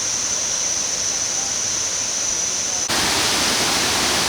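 Kuang Si waterfall with its stepped turquoise pools: a steady, broad rush of falling water, constant hiss that jumps louder partway through as if moving closer to the cascade.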